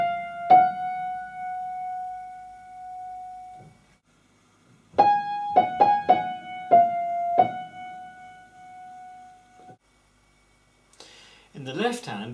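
A piano plays bar 8 of Purcell's Hornpipe: clear single notes, a long held tone followed by a quick cluster of repeated notes, close and alone, then a brief voice at the very end.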